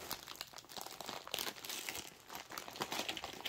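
Crinkling and crumpling of plastic packaging as a diamond painting kit is unwrapped, steady rustling and crunching close up throughout with no talk.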